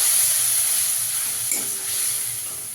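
Ground cumin and coriander hiss and sizzle in a frying pan as water is added, a steady bright crackle close up with a soft stirring scrape partway through, and no voices.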